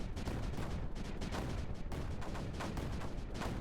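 Repeated mortar shots in the strategy game Creeper World 4, a steady dense run of booming thumps with no pauses, moderately loud and continuous.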